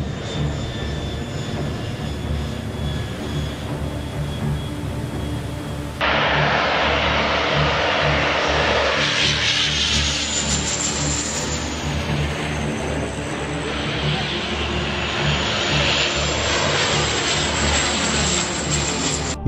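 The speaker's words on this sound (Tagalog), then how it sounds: "Ganto apulahin ang sunog sa kagubatan gamit ang eroplano." Firefighting airplane flying over a forest fire, its loud engine roar steady and sustained, swelling as it passes overhead with a sweeping whoosh, and no talk.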